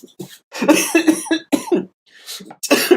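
A man coughing several times in quick, harsh bursts close to the microphone, with short pauses between fits, suggesting a lingering cold.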